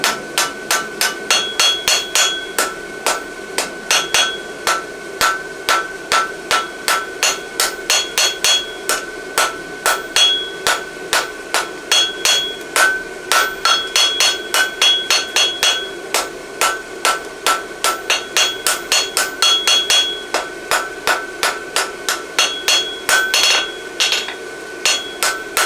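Steady hammer blows ring out on a 12-inch piece of concave steel as a hunter heel cut is forged into a horseshoe, loud, close and metallic, struck in rapid rhythmic bursts with brief pauses, no talking.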